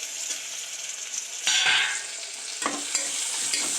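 Peanuts and tomato are stir-fried with ginger, garlic, onion and potato in a pan, a close sizzle punctuated by several scraping stirs of the spatula, louder bursts recurring every second or so, no talk.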